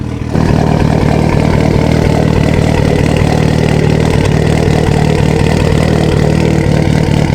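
A car engine that was slow to crank finally catches and runs, a loud close steady idle with a rhythmic low chug and no talking.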